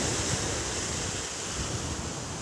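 Surf rolls in along a shoreline, a dense, continuous wash of breaking waves with wind noise on the microphone, loud and steady throughout with no voices.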